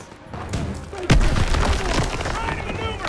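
Gunfire and explosions in a World War II battle scene from Call of Duty: WWII, heavy thuds and booms mixed with distant rattling shots, with voices talking over them.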